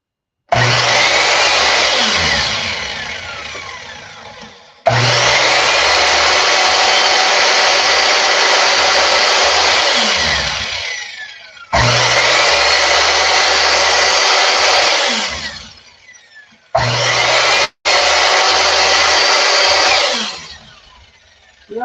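A loud power saw cuts scrap wood in a workshop, running in four long bursts with brief pauses and a short final burst, with no vacuum running.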